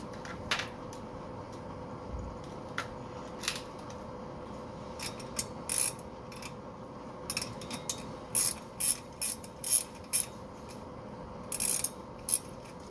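A ratchet wrench tightens a bolt on the rear suspension of a 1967 Mustang, clicking in short bursts that grow into rapid, louder ratcheting runs near the end, close by and without talk.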